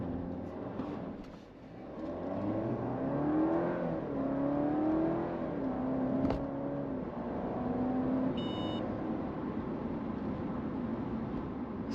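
A 2024 Alfa Romeo Giulia Veloce, rear-wheel drive, launching hard from a standstill through a 0 to 60 run, its engine revving up steadily and loudly through several rising gear pulls, close and continuous with no talk.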